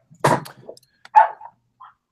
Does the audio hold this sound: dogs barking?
yes